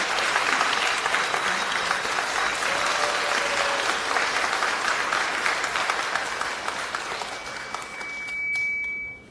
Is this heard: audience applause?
yes